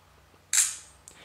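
The camera app on a Motorola Razr phone fires its shutter with a sharp synthetic click and a short hiss, then a fainter second click about half a second later, over near silence.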